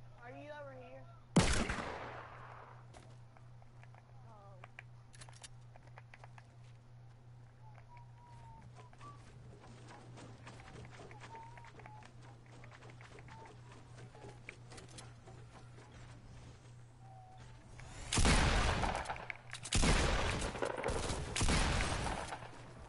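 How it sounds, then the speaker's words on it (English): Video-game shooter gunfire: sharp bursts of shots near the start and a loud cluster of rapid fire toward the end, with scattered lighter clicks and game effects between them. "I shoot on them."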